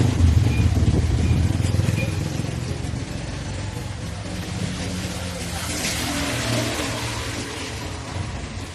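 An engine runs loudly and roughly nearby, its rumble rising and easing slightly as it is revved, with no voices over it.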